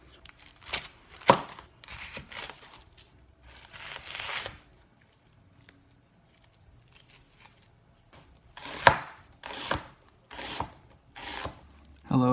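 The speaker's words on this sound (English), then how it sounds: "like this onion. Let's chop it up." An onion chopped with a knife on a board, in short bursts of crisp cutting strokes separated by pauses, fairly close and with no talking.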